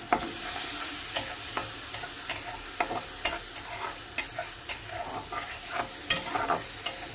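Ginger garlic paste sizzles and fries in a pan while a spoon stirs it, giving a steady close crackle broken by sharp irregular scraping clicks of the spoon against the pan.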